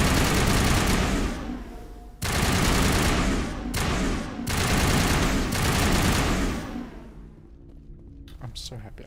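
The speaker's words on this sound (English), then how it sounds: "Assault rifle's actually pretty decent now that I've got like shield bypass and just shoot through the shields" Assault rifle in Mass Effect Legendary Edition firing long, loud sustained bursts broken by brief pauses, fading near the end to a few scattered sounds.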